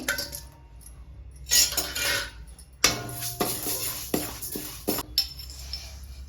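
A utensil scrapes and clinks against a pan as mixed grains are dry-roasted together at home, giving irregular close scratching bursts with short pauses between strokes.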